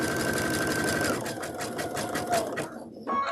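A sewing machine stitches a rope bowl, its needle drumming in a fast, steady motor-driven rhythm up close before slowing and stopping near the end.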